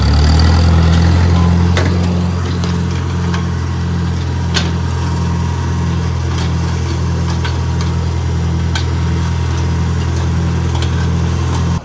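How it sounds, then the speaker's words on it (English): A Case tractor towing a small tine harrow to till loose soil, its engine droning steadily and loudly with a regular low throb throughout, close by and without talking. "I got the little tine harrow hooked up to our case tractor and we're gonna till it up."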